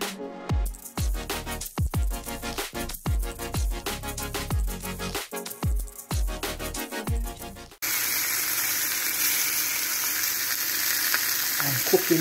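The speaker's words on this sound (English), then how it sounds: "Pork chops on the stove top for my birthday." Five boneless pork chops fry on a stovetop for a Korean-style barbecue meal, a steady, loud, even sizzle filling the second half after a run of rhythmic thumps and tones.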